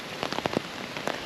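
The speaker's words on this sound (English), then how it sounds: "It's chucking it down with rain" Heavy rain pours down in woodland and patters close by on a surface, likely the fabric of a cheap new camo tent, with uneven drops landing over a dense hiss.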